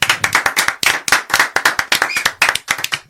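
A crowd at a live beat showcase claps in quick, uneven bursts, with loud sharp hand claps filling the whole stretch and no speech over them.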